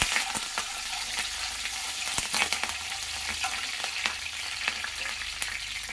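Curry leaf sprigs frying in hot oil for vegetable rava upma, crackling and spitting with sharp, irregular pops over a constant close sizzle.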